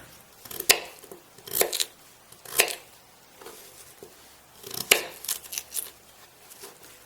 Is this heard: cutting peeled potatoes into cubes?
yes